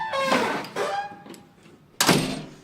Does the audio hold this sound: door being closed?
yes